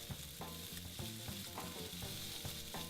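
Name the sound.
minced garlic sizzling as it caramelizes in a pan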